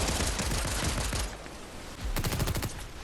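Rapid SMG bursts in Fortnite rattle out as dense strings of shots, first one long stretch and then a second quicker burst with a short lull between, with no talk heard.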